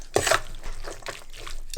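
Pasta water poured into pasta and an egg sauce for carbonara, heard as soft close liquid splashes and dribbles, with a louder splash at the start and another at the end, quiet throughout.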